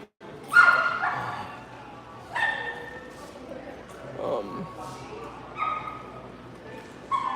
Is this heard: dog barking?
yes